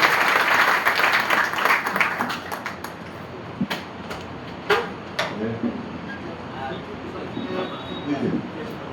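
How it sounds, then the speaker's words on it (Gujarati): An audience at a temple religious discourse applauds the guru with loud sustained clapping that fades out, and a few scattered claps and low voices follow. "તો એકવાર જોરદાર ગુરુજીની તાળીઓથી વધાવીએ"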